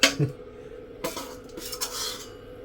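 Pork ribs are stirred in a metal pot, giving a few close scraping and clinking sounds of utensil against cookware, spaced irregularly over a couple of seconds.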